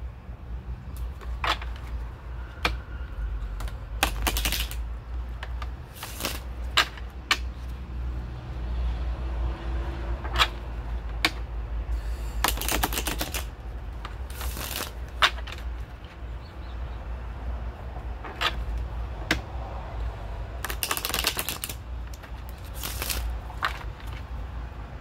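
Healing oracle cards being shuffled by hand, heard as repeated sharp riffling and clicking bursts at irregular intervals over a steady low rumble, with no one talking.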